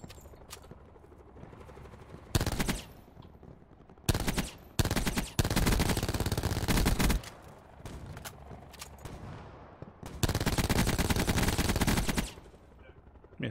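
Gunfire from a weapon in a video game factory area comes in several loud automatic bursts of about one to two seconds each, separated by quieter stretches of faint background noise.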